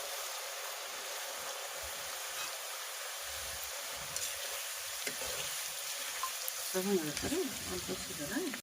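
Shredded potato frying in hot oil, a steady close crackling sizzle throughout, with a brief spoken voice near the end.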